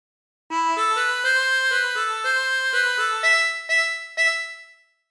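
Harmonica playing a phrase of Bella Ciao, a run of clean sustained reed notes stepping up and down in a steady melodic line, close and unaccompanied before trailing off.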